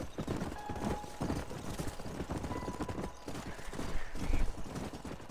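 A horse's hooves clip-clop in rapid rhythm in the video game Red Dead Redemption. The galloping is fairly loud and continuous, with a brief whinny-like tone over the hoofbeats.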